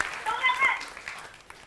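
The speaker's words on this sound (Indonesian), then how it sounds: "Tepuk tangan untuk Alfian." Audience applause at a Gayung Bersambut stage event at Poltek LLASDP Palembang: a short burst of clapping with voices and cheering mixed in, loudest early, then fading.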